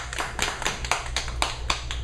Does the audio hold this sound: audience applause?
yes